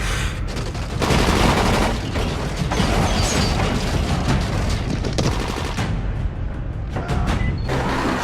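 Dense, loud gunfire from the zombie-survival video game Dying Light, with rapid automatic bursts and mechanical clatter running almost continuously, briefly easing off near the end.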